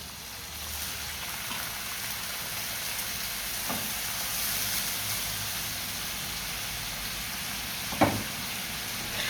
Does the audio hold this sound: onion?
yes